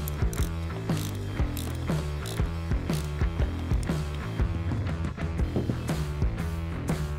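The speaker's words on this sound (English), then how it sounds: "Then you're going to want to torque this bolt down to 19 pounds." Repeated ratchet clicks as a bolt is torqued down during a HARDI 500 series sprayer pump rebuild, a close, steady rapid clatter of pawl strokes with no talking.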